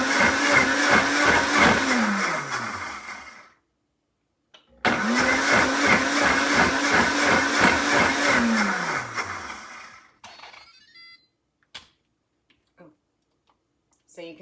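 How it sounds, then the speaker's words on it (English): Pampered Chef Deluxe Cooking Blender pureeing tomatoes, loud motor roaring in two long runs of a few seconds each with a brief stop between, then falling quiet with faint clicks. "So I've got this in the blender"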